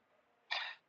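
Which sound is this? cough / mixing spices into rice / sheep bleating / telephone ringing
cough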